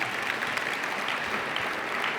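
An audience at a lecture applauds, a dense, steady wash of many hands clapping in a hall, loud and continuous without pause.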